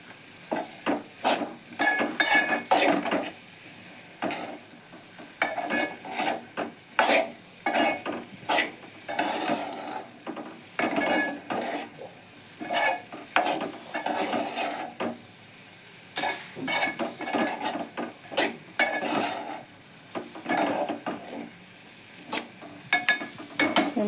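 Thinly sliced capsicum pieces being stirred in a pan, a steady run of scraping spoon strokes against the metal with a light sizzle underneath, close and fairly loud with no talking.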